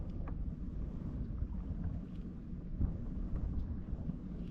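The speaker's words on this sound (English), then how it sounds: "if that wind lays down and gives me some time to work" Strong wind buffets the microphone on a protected shoreline during kayak fishing, a steady low roar and rumble with gusts throughout, no talking.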